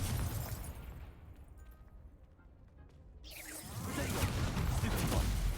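A Confringo fire spell in Hogwarts Legacy, heard as a quiet stretch that gives way to a loud, rushing burst of fiery noise which swells and keeps roaring to the end.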